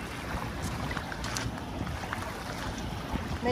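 Strong waves washing ashore at Dolomite Beach on Manila Bay, a steady rushing surf with wind buffeting the microphone throughout, fairly close and continuous with no talk.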